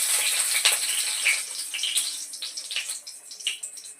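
Whole cumin seeds tempering in hot oil in a wok, sizzling and crackling with a steady close hiss and scattered tiny pops, no voices.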